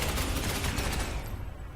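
Rapid bursts of assault cannon fire from the Space Hulk Ascension video game hammer out in a dense, loud volley, then trail off into a fading rumble near the end.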